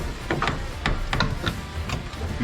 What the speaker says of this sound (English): Our fender's in really bad shape, so you're gonna hear a lot of creaking.